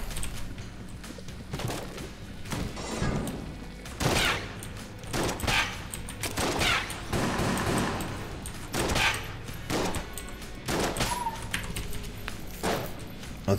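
Rapid shotgun blasts and bullet fire from the video game Enter the Gungeon, landing in repeated sharp bursts over a busy, continuous wash of game sound effects, with no voices present.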